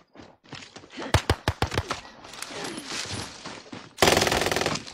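Gunfire in the video game Warzone: a rapid string of sharp, loud shots, a rumbling pause, then a dense sustained burst of automatic fire at the end.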